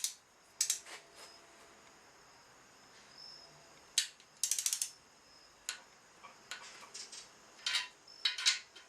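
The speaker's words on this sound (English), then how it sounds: "Now we're going to go ahead and torque them down in a 3-step process." A ratcheting torque wrench clicks in short bursts while tightening main bearing bolts on a Nissan KA24DE engine short block, crisp close ratchet clatter separated by quiet pauses.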